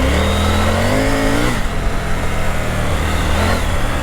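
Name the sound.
Triumph Tiger 900 Rally Pro motorcycle engine revving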